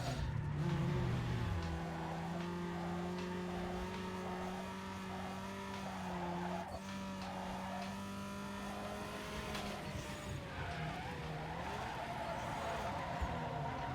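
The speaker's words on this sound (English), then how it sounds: "An insane drift." Car drifting with loud, sustained tire skid and engine whine in Need For Speed Underground 2, a steady screech holding across the slide and wavering near the end, close and dominant.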